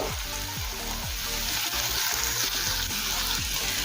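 Ginger, garlic, tomato and onion frying in a pan with ground spices for Bengali ghugni, a steady hiss of sizzling with occasional stirring scrapes, close and continuous.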